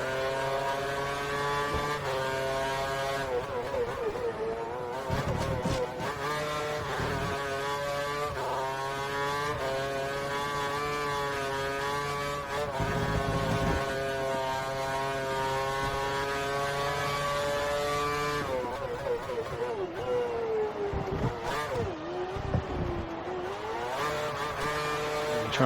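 Formula 1 car engine in a racing video game, running on worn tyres through a hairpin; a steady high whine with rising and falling revs, brief throttle lifts and wheelspin surges, loud and continuous with no talk.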